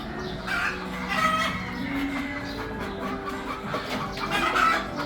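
Hens and young pullets cluck steadily in a pen at a poultry breeding facility, overlapping calls at close range with a rooster-like crow rising briefly among the flock.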